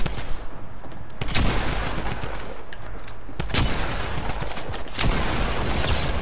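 Fortnite gunfire: a few heavy, close shots with sharp attacks and ringing tails, spaced a second or two apart over busy battle noise.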